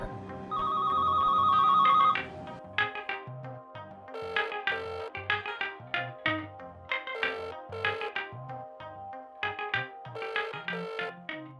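A mobile phone rings with an incoming call, a sustained tone followed by a repeating melodic ringtone pattern, clear and steady throughout with no voices.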